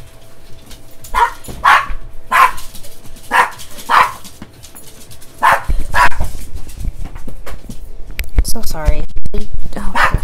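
A dog barks in several sharp bursts, loud and close, alongside someone talking, with some whimpering and shuffling near the end.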